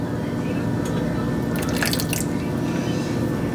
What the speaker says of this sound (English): I am definitely gonna add some of that butternut squash water into it instead of adding more milk